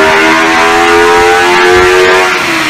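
A Subaru BRZ powered by a 2000 cc V8 built from two fused Kawasaki 1200 motorcycle engines, idling close and loud with a steady, buzzy, high-pitched drone that dips slightly at the end.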